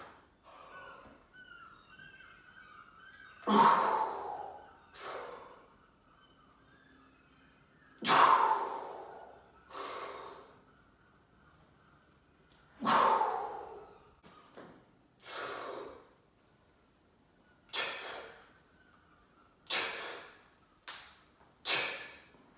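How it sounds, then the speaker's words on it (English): A lifter takes big, sharp breaths in and braces while squatting, with loud breath bursts and gasps repeating roughly every four to five seconds, closer together near the end, amid quiet gaps. "I take a very big breath in, I brace."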